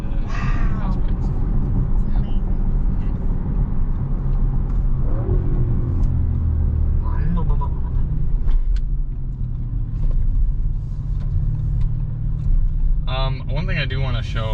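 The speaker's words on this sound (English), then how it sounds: "It's the sound of exhaust rushing through the exhaust pipes." A 2021 Audi RS6 Avant on the move, exhaust rushing through its pipes as a steady rumbling drone with rising engine whir, heard from inside the car.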